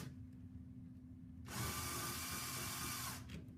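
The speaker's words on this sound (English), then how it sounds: "I'm just going to go ahead and drill our 3 holes" A low hum runs throughout, then a power drill whirs loudly for under two seconds, boring a 5mm hole in a kitchen cabinet side, before stopping, close by.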